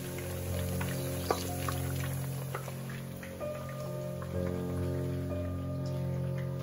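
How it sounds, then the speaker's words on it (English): Eggplant slices sizzle and crackle in hot oil in a pan, a steady close frying hiss with scattered pops over a low background hum. "Baigan frying time"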